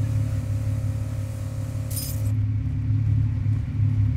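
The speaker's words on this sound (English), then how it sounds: "Oh, those cars are loud." Steady low engine rumble of cars in the video game Pumping Simulator 2, loud and close, with a brief bright clink partway through before the drone continues.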